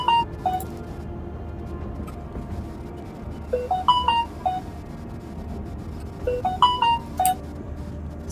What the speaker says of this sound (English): Stop making noise, phone.